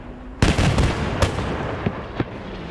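Bombs exploding in a WWII tank battle video game: one heavy, sudden blast followed by a rumbling tail, then two or three sharper, smaller detonations in quick succession, loud and close.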